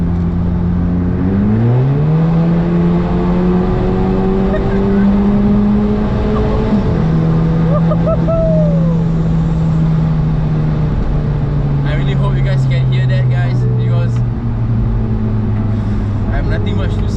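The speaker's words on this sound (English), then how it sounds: "use your headphones and enjoy the Scirocco exhaust." A Volkswagen Scirocco 1.4 TSI drives through a tunnel, its exhaust droning loud and close as the engine revs up, holds a steady pitch, then eases into a long, gradually falling cruise with echoing boom.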